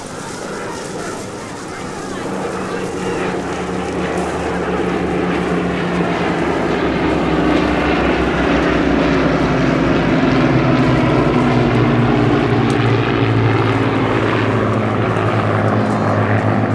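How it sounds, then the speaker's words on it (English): Hawker Hurricane propeller fighter of the RAF Battle of Britain Memorial Flight passing at the Eastbourne airshow, its engine drone rising from distant to a loud, sustained roar with a shifting pitch, under an announcer's commentary. "Amongst the very last Hurricanes to enter service."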